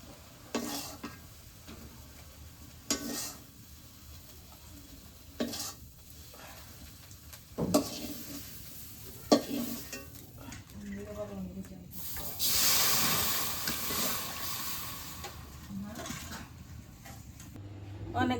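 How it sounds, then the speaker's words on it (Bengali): Koi fish frying in a pan, with scattered sizzle bursts and stirring scrapes across a steady low kitchen background, one longer loud sputter midway; no clear talk. "কই মাছ ভালো করে ভাজি করুন"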